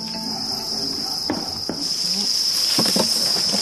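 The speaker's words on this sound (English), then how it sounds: "Just grab an egg crate and shake it." Crickets in egg crates shaken during a harvest on a Thai cricket farm, a dense steady chirping with bursts of rustling patter as the crates are jostled, close and continuous.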